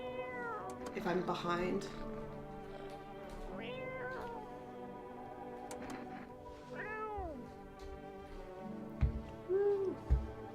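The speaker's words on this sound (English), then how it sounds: "Reach out and pet the cat." A cat in the game No, I'm Not a Human meows several times, drawn-out rising and falling cries spaced a few seconds apart, while a person speaks briefly over them.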